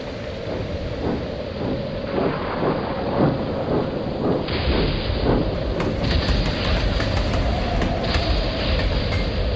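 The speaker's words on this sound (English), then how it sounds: "This rain is almost hard to see through." Heavy rain pours steadily on a train with a low rumble of thunder underneath, dense and continuous, growing harsher and louder partway through.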